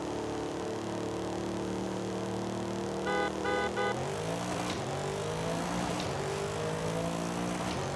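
A 900 to 1,400 horsepower roll race car in Forza Horizon 5 drones at steady engine pitch, then shifts through quick back-to-back gears with rising revs, close and continuous without any voices.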